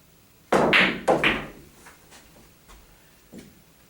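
A cue striking a billiard ball on a pool table, lining up a center-ball shot: two sharp, close clacks about half a second apart, followed by a few fainter knocks and a soft final tap as balls roll and settle.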